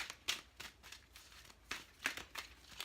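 A Dreams of Gaia tarot deck is shuffled by hand, with soft, close papery riffles coming in several quiet bursts.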